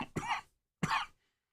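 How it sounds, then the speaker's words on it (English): Two short, fairly loud coughs from a person nearby, separated by a brief pause, with near silence between them. "Got a little cough on the cruise"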